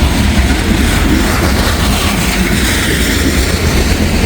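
Loaded coal train, a CSX freight, rolling past close by, a loud heavy rumble with rattling wagons and a low engine drone, steady and unbroken throughout.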